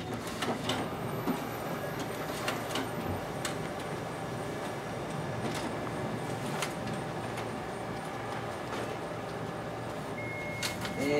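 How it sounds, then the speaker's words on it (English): Ricoh MP C3300 copier's document feeder running steadily as it pulls two test pages through, a continuous mechanical whir with faint periodic clicks at close range. "now we'll go ahead and test out the document feeder"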